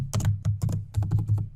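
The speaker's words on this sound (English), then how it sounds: "And type in here the latest news." Fast bursts of keystrokes on a computer keyboard, close and crisp, a dozen or so clicks in uneven clusters with short pauses and no talking.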